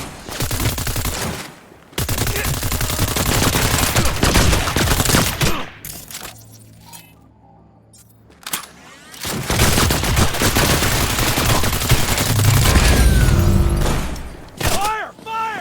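Heavy automatic gunfire in the Cyberpunk 2077 video game, long loud bursts of rapid shots that pause briefly and resume, with shouted voices over the firing.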